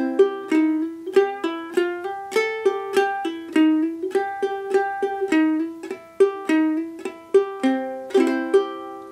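Clawhammer ukulele and baritone ukulele play the Cripple Creek bluegrass duet solo together, bright plucked notes in a steady bouncing rhythm with sharp frailing strikes, close and clear with no talking.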